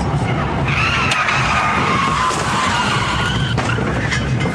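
A car skids in Monaco with a loud, sustained tire squeal over roaring engine noise, close and intense, ending in a sharp crash impact near the end.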